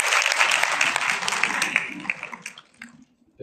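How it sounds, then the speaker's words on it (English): Audience applause at an evening gathering at Rhodes University, a dense wash of clapping that holds steady and then fades out near the end. "I want to give you and your team a round of applause."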